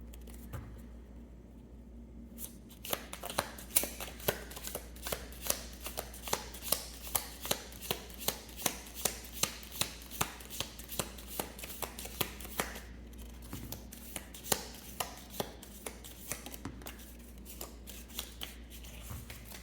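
Tarot cards are shuffled by hand, a quiet rapid series of crisp snapping flicks repeating steadily for a long stretch with a brief pause partway through.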